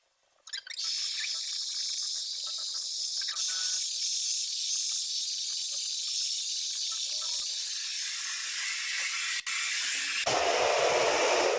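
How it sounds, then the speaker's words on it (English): A hair dryer blow-drying hair on medium heat gives a loud, continuous close-up airy roar. Near the end it cuts to a lower, rougher tone. "we're going to blow dry the hair completely dry on medium heat"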